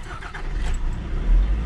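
A two-seat car's engine cranks and catches, then settles into a low, rumbling idle that swells louder near the end, heard close with no voices.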